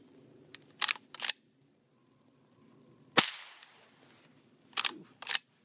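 A CCI Quiet .22 Short round fired from a rifle gives one sharp, fairly quiet crack that rings out and fades, with a few brief mechanical clicks before and after it and no talking.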